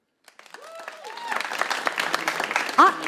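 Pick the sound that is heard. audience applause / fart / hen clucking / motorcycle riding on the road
audience applause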